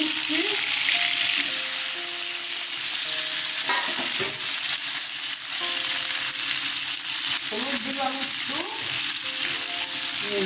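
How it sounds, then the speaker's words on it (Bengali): Potatoes fry in hot mustard oil with a loud, continuous sizzle. Frequent scraping and clinking stirring noises break in irregularly, and no one talks over it. "আলু ভাজা হয়ে গেছে তুলে নিচ্ছি"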